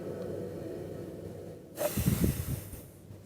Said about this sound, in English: So let's sniff it.